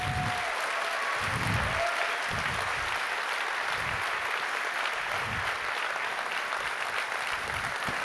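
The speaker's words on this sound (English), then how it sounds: "Give these guys a big round of applause." A conference audience claps steadily for a team on stage, with a dense, sustained round of applause throughout, fairly even in loudness and with no pause.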